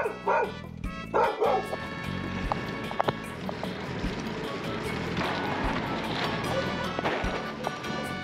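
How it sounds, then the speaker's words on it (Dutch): Several small dogs bark and yip on New Year's Eve in the Netherlands, sharp bursts near the start and scattered barks throughout, some close and others farther off, over a busy outdoor background. "Overal blaffertjes."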